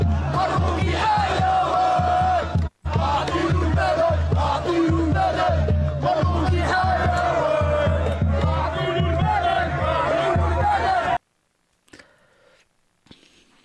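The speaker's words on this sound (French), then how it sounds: "les slogans sont repris hein, dans la foule" A crowd at a rally chants slogans in loud, dense unison for about eleven seconds, then cuts off abruptly to near silence with a few faint sounds.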